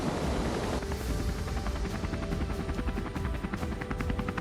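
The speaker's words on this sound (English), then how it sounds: "So let's board this helicopter." Helicopter being boarded for a flight over a deep gorge in the Kalahari, its rotor thudding in a fast steady pulse with a continuous loud turbine roar, close by and constant throughout with no voices.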